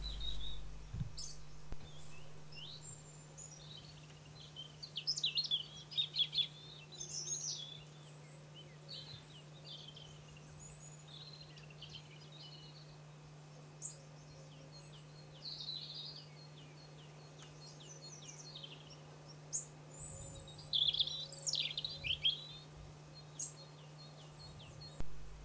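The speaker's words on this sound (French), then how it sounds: "La paruline rayée. Elle vient d'Alaska et hiverne au Brésil." Blackpoll warbler song: thin, very high-pitched bursts of rapid notes repeated in short phrases over several seconds, fairly faint against a quiet outdoor background with a low steady hum.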